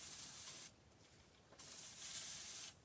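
A steady hissing spray that cuts off briefly, then resumes, close and fairly quiet, with no talking.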